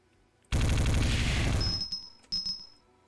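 Wave gun fire in the video game Magic Potion Millionaire: a loud, dense burst of rapid shots lasting about a second, then a short fading tail, one more brief burst, and a ringing high tone.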